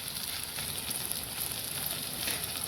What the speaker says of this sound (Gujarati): જેમાં પેસ્ટ તૈયાર કરી હતી તેમાં પાણી ઉમેર્યું છે.